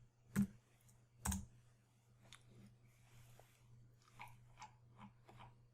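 Computer keyboard typing a number into CAD drafting software: two louder close key clicks, then a scattering of several quieter taps, faint against a steady low electrical hum.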